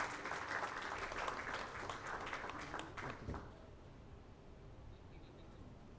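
A hall audience gives a minister a round of applause at a session on Sagarmala shipping and maritime logistics; dense clapping runs for about three seconds, then abruptly falls away to a quiet room tone.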